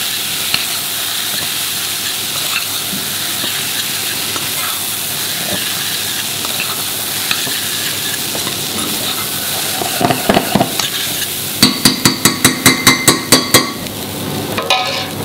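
Garam masala, lemongrass, curcuma and curry powder sizzle in a hot pan for vegan dahl, a steady hiss that swells into louder bursts of stirring and crackling near the end.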